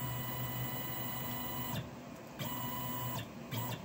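A CNC machine jogs along its x axis, giving a steady whining motor hum with a clear tone that cuts off briefly and resumes in short segments, close and alone.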